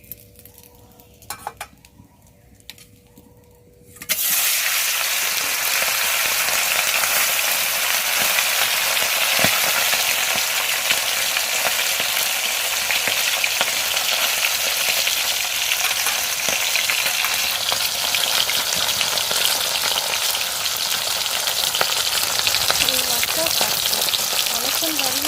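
Fish frying in hot oil, a loud, steady sizzle that begins abruptly after a few seconds of quiet kitchen sounds and continues unbroken, with occasional faint clinks of utensils in the pan.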